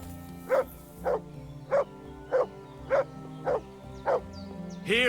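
A dog in the medieval video game Kingdom Come Deliverance 2 barks seven times at a steady, even pace, each bark clear and fairly close over a low ambient game background, with a short whine at the end.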